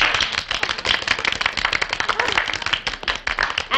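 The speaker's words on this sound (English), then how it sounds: "I'd like a nice round of applause for a swell detective" Audience applause and clapping for a detective being introduced on stage, dense hand claps with uneven bursts rising and falling throughout, no voices over it.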